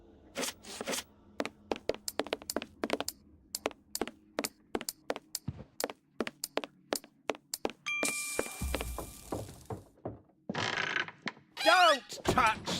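Heavy doors and their mechanism working in a dramatic setting: a long run of sharp metallic clanks and thunks in uneven rhythm, then a grinding rush and ringing tones, moderately loud with no speech.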